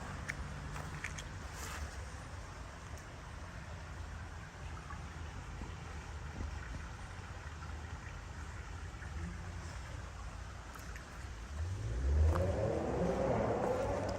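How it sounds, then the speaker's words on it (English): A car idles with a low, steady rumble in a parking lot, then near the end its engine is revved up, the roar swelling louder and closer over a faint background. "they're just going to go in every single parking lot and just rev the engine"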